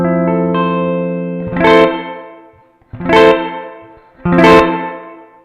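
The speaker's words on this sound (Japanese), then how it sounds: "残響はちゃんと残ってるんですけども、残響がかかり出すのがピッキングとほぼ同時になってますね" An electric guitar runs through a Strymon BlueSky reverb pedal with pre-delay set to zero: a sustained chord rings out, then three loud picked strums follow, each blooming straight into a long, smooth reverb tail.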